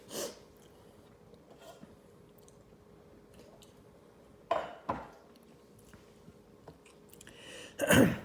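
A single person sneezes in a quiet indoor room during a board game session, with a couple of sharp bursts partway through and a louder, noisier burst near the end, over a faint steady hum.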